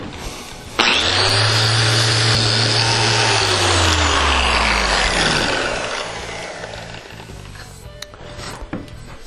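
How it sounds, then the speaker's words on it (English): A power sander working 60 grit sandpaper over a log handrail coupling, steady loud whirring that starts abruptly, holds for several seconds, then winds down and tapers off. "I'm going to go ahead and just sand the whole coupling there"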